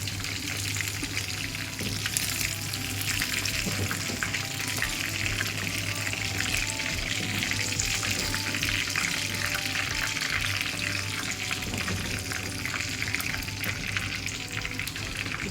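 Chicken pepper kebab, Mangalore style, frying in coconut oil, a steady dense sizzle and crackle held close and unbroken for the whole stretch, with a low constant hum beneath.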